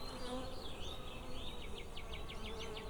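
Honey bees buzz steadily around an open hive during a summer honey harvest, a dense, continuous drone close by with individual wingbeats weaving in and out, no talking.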